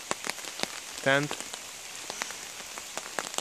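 Rain falling on a forest path while hiking in the Carpathian mountains, a steady patter with distinct nearby drops, interrupted by one brief voiced sound.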